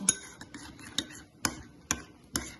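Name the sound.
stirring garlic sauce until smooth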